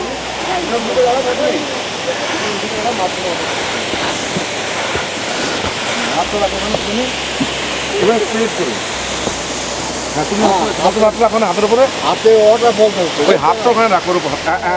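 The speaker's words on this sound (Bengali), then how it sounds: "এখানে জলের আওয়াজে একদম কান পাতে যাচ্ছে না" Changey Falls near Kolakham roars in a constant, loud rush of falling water, with voices talking over the heavy wash throughout.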